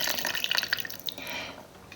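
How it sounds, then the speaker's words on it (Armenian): Water poured into a pot of dolma being cooked on the stove, a short run of trickling and dripping splashes that fades to quieter flow, with no talking. "մի փոքր էլ ջուր կավելացնեմ"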